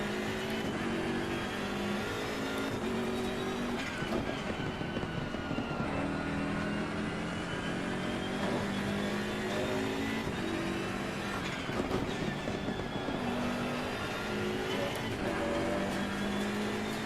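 A BMW race car on a qualifying hot lap at Monza in a racing video game, its engine droning loud and continuous with shifting pitch as it revs up and down through gears, with no talking.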